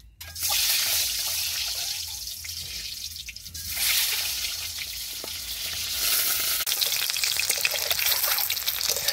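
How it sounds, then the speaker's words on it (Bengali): Egg dropped into hot oil, a loud steady sizzle and crackle starting abruptly and continuing close up, swelling again partway through, with no talking. "তেল গরম হয়ে গেছে, ডিম দিয়ে দেই।"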